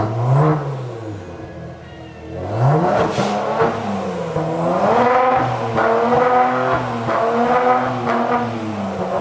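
A Kia Stinger with catless downpipes and its exhaust valves open revs hard, the engine note rising and falling in loud, close surges across two long pulls with a brief dip between them.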